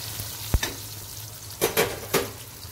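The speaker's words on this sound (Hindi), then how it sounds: "टमाटर अच्छी तरह भून चुके हैं" Tomatoes fry in oil for chicken jalfrezi under a constant sizzle, with several distinct knocks and scrapes of a utensil against the pan spaced unevenly, close and unaccompanied by voices.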